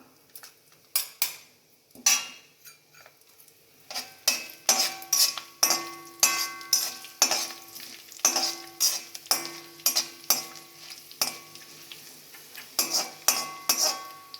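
Cumin, fennel seeds and dried red chili crackle and sizzle in hot oil while a metal spoon repeatedly clinks and scrapes against the pan, close and busy.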